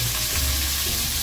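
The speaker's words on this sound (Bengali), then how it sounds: "মাছগুলো একটু কড়া করে ভাজবো" Pieces of fish fry crisp in hot oil in a pan, giving a dense, continuous close sizzle with crackling spatter throughout the short stretch.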